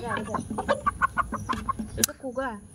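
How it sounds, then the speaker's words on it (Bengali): A chicken clucking in rapid, agitated bursts while being caught by hand at a village home, close and loud, with people talking nearby and a brief sharp squawk. "মুরগি ধরতেছে।"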